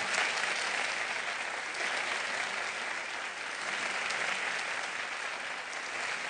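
Sustained audience applause fills a hall at a Tijuana Innovadora breast cancer treatment conference, a steady, dense clapping from a large crowd with no pauses throughout.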